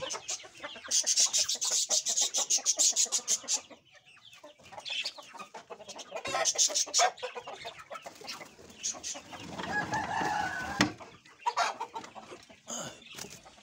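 Farmyard hens cluck nearby in bursts, with rooster-like calls and scratchy rustling between them, fairly loud at times with a quieter stretch in the middle.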